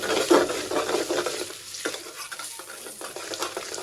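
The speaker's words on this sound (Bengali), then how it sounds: "তারপরে মাংসগুলো ভেজে নিব এখন।" Meat curry being stirred and fried in a pot, with a spoon scraping and clattering against the metal over a steady close sizzle, no talking.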